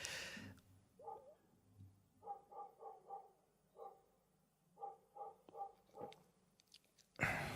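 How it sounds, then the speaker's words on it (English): A dog barks in short repeated bursts, several clusters of sharp woofs from a moderate distance in an indoor setting, with quiet gaps between them and no talk over the barking. "why is Wolfie barking?"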